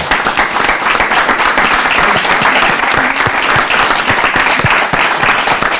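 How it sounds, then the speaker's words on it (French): A festival audience at a departmental library event in the Yonne applauds steadily and loudly throughout, a dense continuous wash of many clapping hands with no talking over it. "vous pouvez applaudir s'il vous plaît Odile Touzé"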